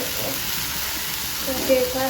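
Cut potatoes frying in oil, a steady, close hiss of sizzling that holds evenly throughout, with a slight stir or bump near the end.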